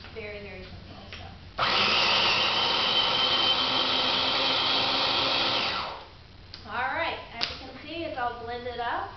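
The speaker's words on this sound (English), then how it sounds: "go ahead and blend it" A blender whirs through red pepper sauce in one continuous loud burst of about four seconds, then stops, with a person talking before and after it.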